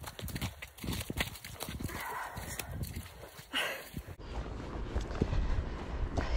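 Horse hooves clip-clop steadily while the horse is ridden out on a slippery, snowy hack in early spring, the footfalls close and rhythmic under wind and rustling, with a sudden shift in the background noise partway through.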